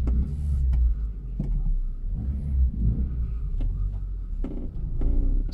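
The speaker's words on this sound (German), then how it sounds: "Wir fahren mal auf den Trailer." Opel Astra car driving slowly up onto a trailer: a low engine rumble and drone with intermittent clanks and knocks from the ramps, close by, with no talk.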